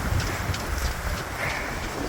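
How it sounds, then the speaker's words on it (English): Wind howls and buffets around a Haines Hunter trimaran sailboat out on the water, a steady, fairly loud rushing roar that continues without a break. "This boat makes weird noises,"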